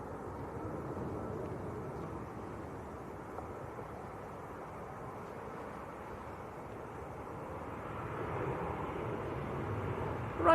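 A Ryanair plane arriving from Lanzarote lands at Manchester Airport, a distant, steady low roar of jet engines that swells slightly toward the end.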